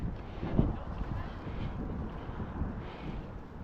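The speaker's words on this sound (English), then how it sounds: "like today it's very windy" Strong outdoor wind buffets the microphone in gusty rumbling bursts, loudest early on, with a person's talk mixed in during a walk.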